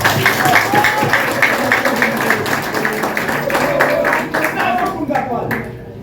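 Warm applause rises from the audience at an installation ceremony for a health department administrator, steady rhythmic clapping close by that thins toward the end, with voices talking underneath.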